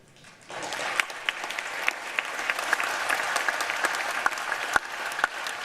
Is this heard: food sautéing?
no